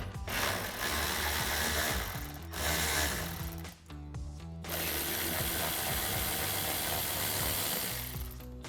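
Tool spinning out 8mm splash guard bolts on a Jeep Gladiator, a steady loud mechanical whir running nearly continuously with a couple of brief pauses, close up.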